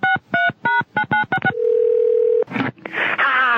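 A telephone is dialed to place a call: a quick run of about eight touch-tone beeps, then a steady ringback tone, followed by a burst of line noise and a voice answering.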